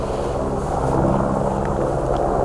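An airplane flies overhead as a steady, loud broadband rumble that fills the whole stretch without letting up.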